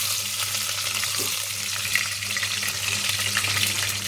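Green chillies stuffed with a spiced gram flour mix fry in hot oil, giving a steady close sizzle and crackle that carries on without a break, with no talk over it.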